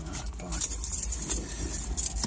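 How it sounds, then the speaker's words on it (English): A bunch of keys jangles up close in quick, bright metallic clinks, with a low engine rumble faintly underneath. "So I need the keys for that"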